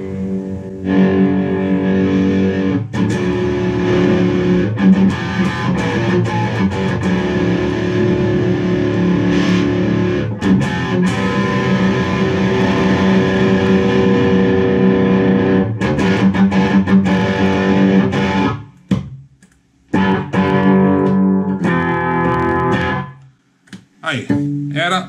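A Peavey 5150 60W guitar combo amplifier plays loud, heavily distorted guitar almost continuously, with brief drop-outs near the end as the playing stops and restarts.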